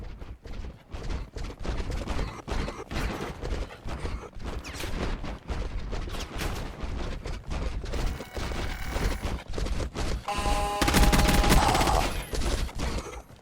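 Sustained automatic gunfire in a first-person shooter video game, loud bursts rattling almost continuously, denser and brighter near the end, with only brief faint talk.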